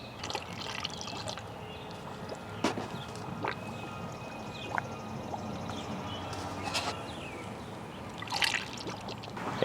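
Engine coolant poured into the cooling system of a 2008 Hyundai Elantra 2.0L, a soft steady trickle and gurgle with scattered drips and small clinks, faint and close.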